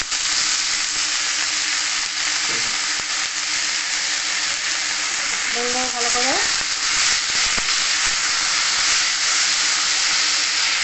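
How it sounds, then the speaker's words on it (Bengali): Chopped Malabar spinach (pui shak) frying in a pan, giving off a steady, dense sizzle and hiss throughout, with a short spoken phrase partway through. "অল্প অল্প ভাজা হয়ে গেলে এর মধ্যে আমি কুচিয়ে রাখা পুঁই শাক দিয়ে দেবো।"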